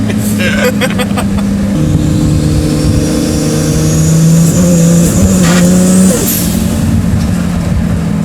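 A 750-horsepower big-turbo 2JZ Toyota Supra on a mountain road drones steadily and loud, its engine note rising and falling through revs, with a voice occasionally talking over it.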